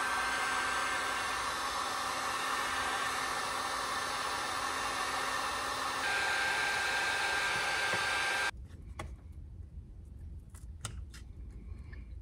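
A hot air tool blows steadily on glued wood so it can be pried up, a constant loud hiss and whir for about eight seconds that then cuts off, leaving faint clicks and handling noise.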